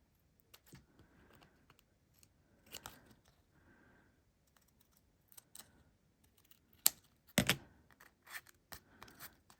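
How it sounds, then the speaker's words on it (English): Scissors snip along the back edge of a handmade card decorated with metal tape, giving a few quiet, scattered crisp cuts and rustles in a still room. "And trim from the back."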